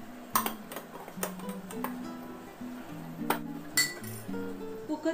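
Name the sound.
stacking containers in pressure cooker and closing lid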